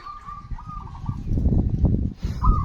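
Doves or pigeons give soft, repeated coos on an outdoor afternoon, over a low, rumbling background with no voices.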